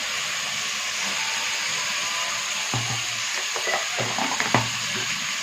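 Tomatoes sizzle in a pressure cooker with a constant hissing fry, joined midway by a series of scraping stir strokes and light knocks against the pot, close by.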